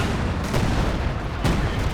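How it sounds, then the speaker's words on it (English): Mortar shells fire and burst in Company of Heroes 2 amid a dense, continuous barrage of battle noise, with a couple of sharper thumps standing out in the constant rumble of gunfire. "Mortar gets a good shot in"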